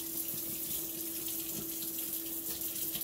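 Cold water runs steadily from a tap into a sink, a constant close rushing flow with a steady hum underneath and no voices.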